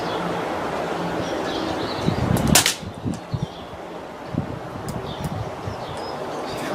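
Single sharp shot from a Daystate Pulsar .177 air rifle fired outdoors at a field target in wind, a loud brief crack followed by faint breezy background and small knocks.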